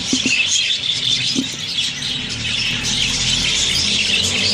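Budgerigar parrots in a cage keep up a dense, continuous squawking and chattering, loud and close, with a few sharper calls standing out from the flock.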